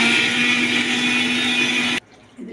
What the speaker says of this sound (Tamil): அந்த மசாலாவை மாத்திரம் மிக்சியில் போட்டு நல்லா ஒரு தடவை பொடியை வச்சுக்கணும்